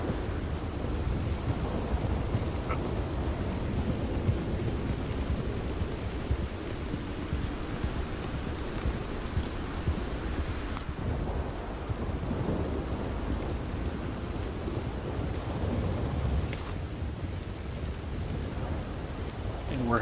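Heavy pouring rain and rumbling thunder in Red Dead Redemption 2, a steady loud downpour wash with low rolling thunder swells throughout, no talking.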